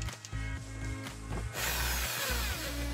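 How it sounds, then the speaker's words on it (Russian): An electric drill runs with its chuck clamped onto a homemade attachment for a manual knife sharpener, giving a steady, stepped motor whine that shifts into a broader grinding rush halfway through. No voices are heard. "Берем дрель, зажимаем патрон."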